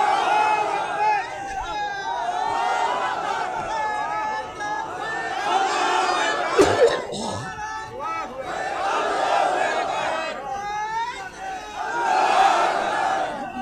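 A crowd of young men at an Islamic sermon gathering chanting a slogan together, loud massed voices rising and falling in rhythmic shouts for over ten seconds, with one sharp burst near the middle.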